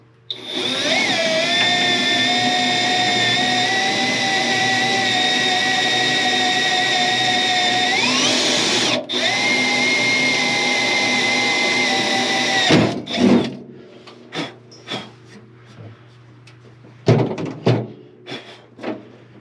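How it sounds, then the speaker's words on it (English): A loud power drill whines steadily for several seconds, its pitch rising briefly before stopping, followed by scattered clatters and knocks nearby. "Mark it and drill it"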